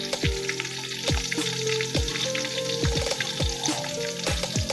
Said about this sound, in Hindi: अब डालेंगे ये जीरा, डालेंगे साबित जीरा, गरम मसाला इसमें